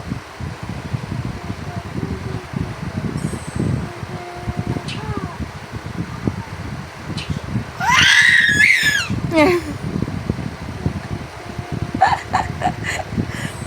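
A baby screams and shouts in a sharp, high burst while eating, standing out over steady background noise and adult conversation in the room.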